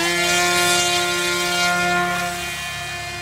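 An RC FPV delta wing plane climbing out after a half throttle launch, a steady high electric motor whine with strong pitched harmonics that slowly fades as it pulls away, with no voices.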